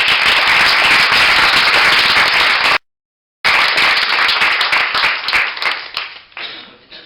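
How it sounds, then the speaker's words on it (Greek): An audience applauding at a poetry and creative-writing awards celebration, dense loud clapping that briefly cuts out, resumes, then thins and fades toward the end. "Για όλους αυτούς ένα χειροκρότημα"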